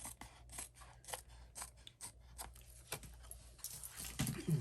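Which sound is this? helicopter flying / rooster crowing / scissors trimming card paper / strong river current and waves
scissors trimming card paper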